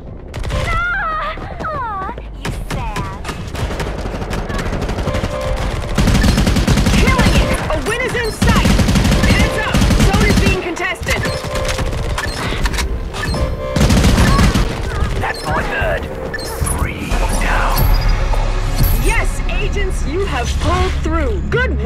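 Dense, loud gunfire in the PC shooter Modern Combat: sustained automatic bursts and booming shots pile up continuously over about twenty seconds, with radio-style voices and game announcements talking over the battle.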